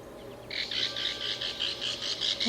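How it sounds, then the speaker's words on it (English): Recorded belted kingfisher-style call played back from a phone bird-ID app, a rapid series of harsh, rattling chirps repeating steadily for a couple of seconds, fairly close and clear over faint background hiss. "So you get a sampling of what a kingfisher might sound like."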